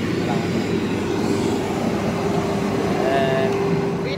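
A steady, loud engine drone from an Isuzu Trooper held at 3,000 RPM after a smoky, low-power fault was fixed, running continuously and close by, with a faint voice briefly over it.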